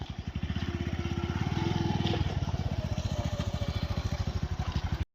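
A motor-driven water pump chugs in a chickpea field, a loud, close engine beat with fast, regular pulses running steadily throughout.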